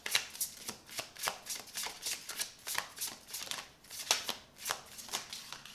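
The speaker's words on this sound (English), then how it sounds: "I want to pull one more card along with this as well." Tarot cards shuffled by hand, a rapid series of crisp riffling and slapping bursts in an even rhythm, close and fairly quiet with no talk.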